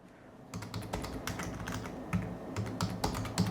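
Rapid, continuous typing on a computer keyboard, a quiet, close stream of clicking keystrokes with uneven rhythm and no talk.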